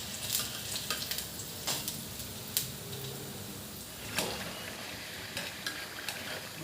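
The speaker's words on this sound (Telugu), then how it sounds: "గోల్డెన్ కలర్ వచ్చే వరకు ఫ్రై చేసుకోవాలి" Bottle gourd fritters fry in hot oil with a low, steady sizzle, broken by a few sharp clinks and scrapes as they are turned in the pan, fairly quiet and close.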